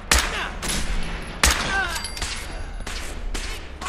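Gunfire in Fallout 4 rings out in several sharp bursts, loud shots and rattling volleys separated by brief gaps, with shell and impact clatter in between.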